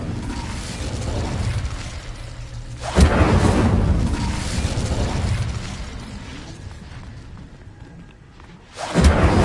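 Incendio fire spell cast in Hogwarts Legacy, two sudden loud whooshing bursts of flame about six seconds apart, each swelling then slowly fading into a crackling rumble, close and alone.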